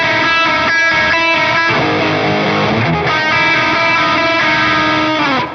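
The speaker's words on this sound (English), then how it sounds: "if you put some distortion on that, like a metal sound" A heavily distorted electric guitar rings out loud chords, shifting between a few sustained, buzzing notes with no voices.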